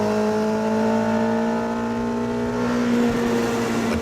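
A Honda S600's tiny 606 cc DOHC water-cooled four-cylinder holds a steady high-pitched whine at sustained revs, loud and close with no talk over it.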